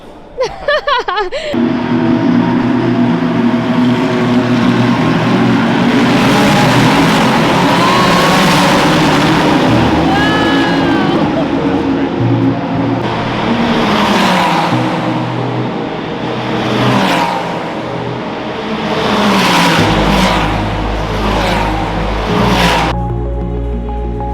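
Ferrari race cars on a formation lap at the Finali Mondiali in Italy roar past close and loud, engines sustained and droning, with several distinct whooshing pass-bys one after another before the sound drops to a lower rumble.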